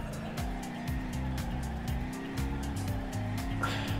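A car drifts around a track in BeamNG.drive, its engine droning and revving in shifting steps with tire squeal over the top, loud and continuous with no talk.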